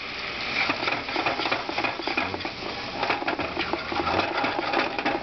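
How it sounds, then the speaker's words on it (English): Flour is stirred into melted butter in a pan, with busy scraping and pattering stir sounds close up and continuous for several seconds. "And give it a good stir"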